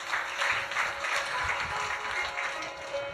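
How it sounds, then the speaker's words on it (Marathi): Audience clapping at a Shiva katha sermon on Shiva Purana, a steady dense patter of many hands sustained throughout without pause. "जोरदार टाळ्या वाजवा एकदा."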